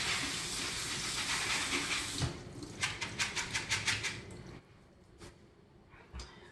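Black-eyed peas being rinsed under running water, a steady hissing rush that breaks into a series of rhythmic splashing pulses as the peas are swished, then fades to faint drips and a soft thump.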